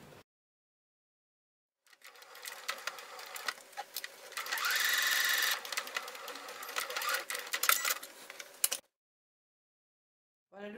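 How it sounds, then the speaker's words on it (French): A sewing machine stitches the collar of a fabric lion plush toy, a fast rattling run of needle strokes lasting several seconds after a short silence and ending abruptly, heard close and alone. "Et je passe une petite couture dessus."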